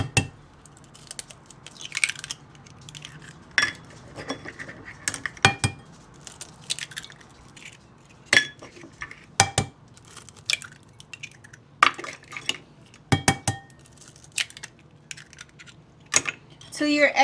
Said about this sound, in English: So you want to crack in 4 eggs into a large bowl.